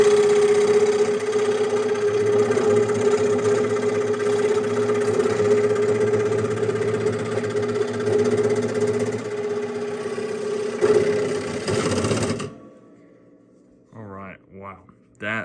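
Scroll saw with a 9.5 TPI blade cutting three-quarter-inch padauk wood, a steady close mechanical buzz with a droning hum lasting about twelve seconds before stopping, after which a voice speaks briefly.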